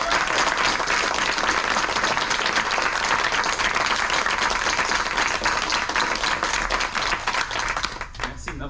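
An audience in a theatre applauds the stage technician Louis in the control booth, a sustained, loud round of clapping that holds steady for several seconds before thinning out at the end.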